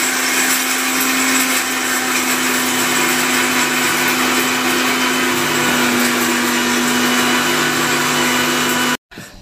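An electric kitchen mixer grinds peanuts and garlic into a masala, a loud continuous whirring drone close by that runs unbroken before cutting off abruptly near the end.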